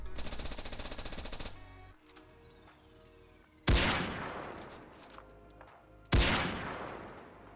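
Gunfire in a Unity-built multiplayer first-person shooter: a fast automatic burst rattles for about a second and a half, then two loud single shots boom out a few seconds apart, each trailing off in a long echoing decay.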